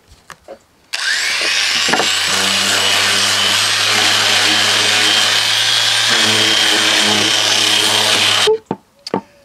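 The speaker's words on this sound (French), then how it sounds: "on va poncer un peu toutes les parties qui ont besoin pour pas que ça accroche" Power tool sanding wooden birdhouse parts, a loud steady whine with a low motor hum running unbroken for about eight seconds, close by, starting and stopping abruptly with brief knocks at either end.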